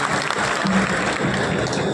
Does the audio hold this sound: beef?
no